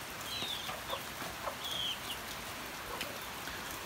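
A hen with six chicks in heavy rain: faint, high chick peeps and soft clucks scattered over a steady rain hiss, heard from a little way off.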